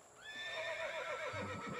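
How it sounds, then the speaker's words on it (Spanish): Horses neigh in a rural Mexican film scene, a fairly faint drawn-out whinny that falls in pitch, with soft hoof clatter near the end. "Tengan cuidado con esos caballos."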